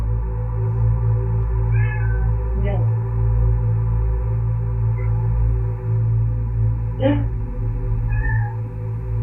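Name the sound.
cat meowing, freaking out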